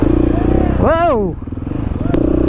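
A dirt bike engine revs and sputters on snow before the rider goes down, the close motor buzzing in pulses while a voice shouts over it.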